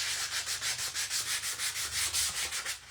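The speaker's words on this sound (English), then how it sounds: "Got my little sander. There it is. And I'm just gonna lightly sand out" Small electric sander lightly sanding adhesive off a stencil, a close steady rasping hum pulsing in a quick regular rhythm as it rubs back and forth.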